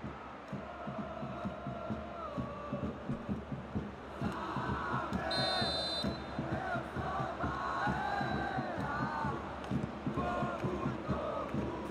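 Stadium crowd in PES 2020 cheers and chants throughout a Bahia versus Flamengo match, a steady, dense roar with rhythmic drumming that swells midway, with game commentary mixed over it.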